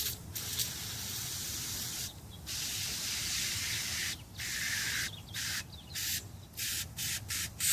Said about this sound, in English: Now using a battery cleaner, and that's important to remove all the corrosion.